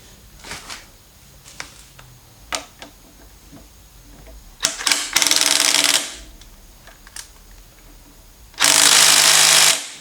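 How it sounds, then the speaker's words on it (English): An impact gun rated around 300 foot-pounds hammers a bolt up to torque spec during a Subaru Outback XT turbo install, giving loud, sustained bursts of rapid rattling impacts, the longest mid-clip and another near the end, with scattered clanks between. "So this impact gun is rated to go to, I think, about 300 foot-pounds of torque"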